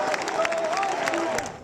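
College basketball fans at HP Pavilion arena applaud and cheer in a dense, ongoing wash of clapping and crowd noise, with a voice talking over it and the noise fading at the end.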